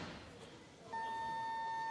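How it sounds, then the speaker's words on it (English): A 30-second buzzer sounds at a 2016 European weightlifting competition in the 62 kg class: a steady electronic tone starts about halfway through and holds to the end over faint arena murmur. "30-second buzzer."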